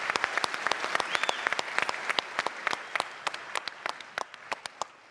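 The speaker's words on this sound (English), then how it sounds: "You haven't had a round of applause" An audience breaks into a round of applause after a debate presentation, a dense burst of many hands clapping that thins out over about five seconds into scattered individual claps.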